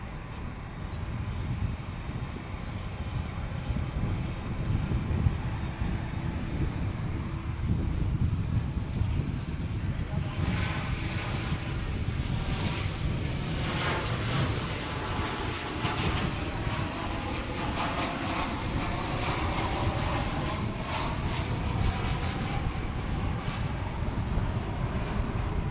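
An Airbus A350-900 jet at Dallas/Fort Worth Airport gives a steady, loud engine roar with wind rumble, growing brighter and fuller midway as it passes.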